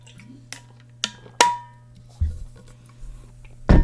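Someone fetching a drink of water: a few sharp glassy clinks and knocks spaced irregularly, then a soft thud and a brief splashing pour, close up against a steady low electrical hum.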